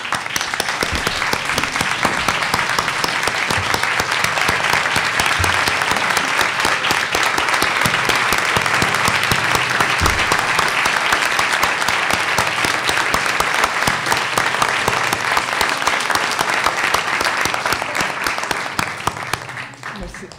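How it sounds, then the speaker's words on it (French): Sustained applause from a standing audience of young people at a gathering honouring Québécois and Chileans, dense steady clapping filling the whole stretch and tapering slightly at the very end. "que tous les jeunes qui sont ici se mettent debout pour faire un applaudissement à tous les Québécois et les Chiliens"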